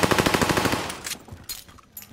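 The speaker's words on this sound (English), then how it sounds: "I'm shooting him" Rapid video game gunfire rattles out in a fast burst of evenly spaced shots, then gives way to a few scattered, fainter shots and brief sharp cracks.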